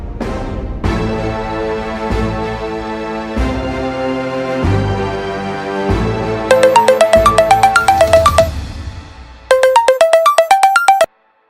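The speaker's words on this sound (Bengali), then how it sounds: "আমি থানায় ফোন করে দিচ্ছি" A phone ringtone plays loud and clear, first slow sustained piano-like tones, then two bursts of quick repeating melodic chimes separated by a short pause, ending abruptly in silence.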